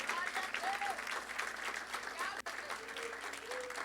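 Congregation at a Portuguese-language family church service claps steadily and strongly for the whole stretch, a dense crowd of hands with scattered voices and cheers mixed in.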